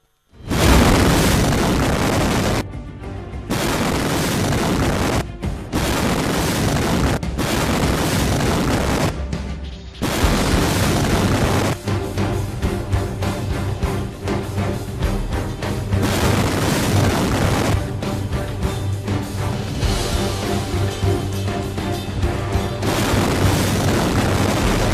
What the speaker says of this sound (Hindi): पहले थोड़ा धुआं उठा और फिर इतना तेज ब्लास्ट हुआ कि शहर की बुनियाद ही हिल गई।